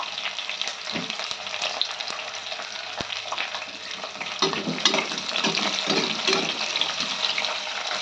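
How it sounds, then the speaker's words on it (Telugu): Onions and green chillies fry in a pan with a continuous crackling sizzle that grows a bit louder partway through. Occasional stirring knocks mix with a watery background hiss. "ఉల్లిపాయలు, పచ్చిమిర్చి వేసి కొంచెం వేగిపోయినాక"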